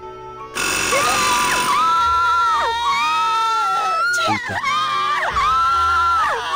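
Children in Grim Fandango scream in loud, high, wavering shrieks that overlap almost continuously, with a short spoken exclamation near the start.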